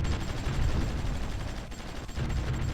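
Artillery barrages in the strategy game Supreme Ruler Ultimate, a dense steady rumble of distant booming gunfire that rolls on continuously without a break, with no voices over it.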